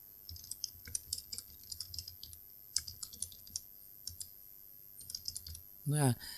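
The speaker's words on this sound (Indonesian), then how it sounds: "Teman-teman silakan mengganti dengan cara memblok, kemudian langsung ketikkan." Keys click on a computer keyboard as a chart title is typed in Microsoft Excel 2010, a quiet, close, irregular patter of keystrokes that ends in a brief spoken word.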